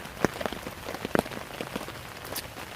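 Rain falls on a wild camp with a USGI bivvy bag, a continuous wet hiss broken by sharp, uneven drop impacts landing close by, heard alone without speech.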